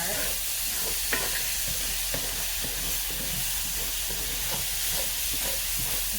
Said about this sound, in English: Let me give it a stir